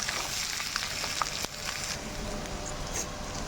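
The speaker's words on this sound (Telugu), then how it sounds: "ఇప్పుడు మనం ఫ్రై చేసుకుందాం. చామదుంపలు ఇందులో వేసుకున్నాం కదా." Taro roots frying in a pan with ginger-garlic paste give a steady, close, dense sizzle and crackle that holds evenly throughout, with a single sharp tap partway through and no talking.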